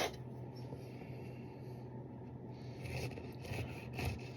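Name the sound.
cutting a cream puff in half with a small knife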